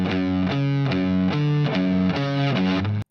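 Distorted electric guitar plays a riff alone, a chugging run of sustained low power-chord notes with changes roughly every half second, loud and steady for three seconds before cutting off.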